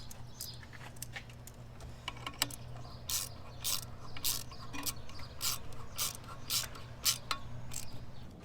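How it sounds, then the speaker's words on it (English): Ratchet tightening a bolt on an Audi/VW charge pipe during a turbo muffler install, a series of close, crisp clicking bursts in uneven rhythm with brief pauses between strokes. "I'll tighten that up."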